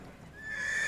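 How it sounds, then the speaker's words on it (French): A racehorse at a sale lets out a short, rising whinny lasting under a second, close and moderately loud over faint background noise. "un cheval de course"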